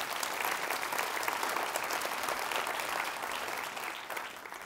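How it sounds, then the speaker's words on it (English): Steady applause from a large audience, dense and continuous clapping that holds at an even level before easing slightly at the end. "Let's give them a round of applause"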